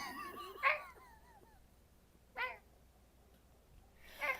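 Three short, soft meows from a big fluffy cat, spaced out over a few seconds, the first with a rising-falling tone, the later ones briefer, against a quiet background.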